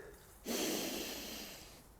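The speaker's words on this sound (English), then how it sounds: "I'll take a breath in" One deep breath is drawn in through the nose while walking outdoors: a sustained airy inhale of about a second and a half, close and fairly clear over soft outdoor background noise.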